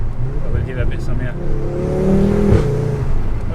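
A stage 3 tuned Audi RS3 with 516 bhp accelerates from inside the car, its engine note rising steadily under a constant road and wind roar.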